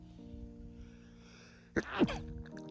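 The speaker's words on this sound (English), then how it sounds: "sorry, I'm going to sneeze again." A single sharp sneeze bursts out close by over a steady low hum, followed by a short breathy exhale.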